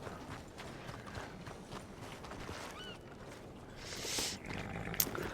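Faint horse hooves clop along at a slow walking pace in Red Dead Redemption 2, steady and quiet, with a brief hiss and a sharp click near the end.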